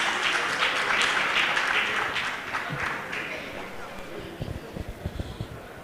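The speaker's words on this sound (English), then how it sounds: "A round of applause for her," Applause for a woman at a teachers' certificate award ceremony, a loud burst of clapping that gradually thins out into scattered, more distinct claps and shuffling toward the end.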